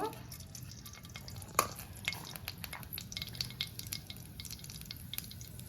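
Fenugreek seeds fry in hot oil in a pan while tempering for a Telangana gongura chutney: a faint, steady crackle dotted with small scattered pops and ticks, with no voices.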